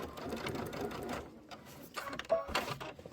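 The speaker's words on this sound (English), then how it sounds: "I am going to just do a little back stitch." A sewing machine runs a short back stitch on a pillow, its fast, steady mechanical whirr pausing and restarting at close range and fairly quiet.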